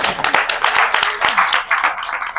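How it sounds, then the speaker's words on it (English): Audience applause at a coaching session, brief scattered hand clapping from a small group, near and fairly loud over a couple of seconds. "Can you give her a round of applause?"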